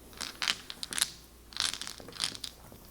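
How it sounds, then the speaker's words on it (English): Mahjong tiles shuffled by hand on a table, giving repeated close clattering, rattling bursts in uneven clusters with brief pauses between them. "Let's put the tiles down and do exercise number 6 by rebuilding the hand. Shuffle the tiles around"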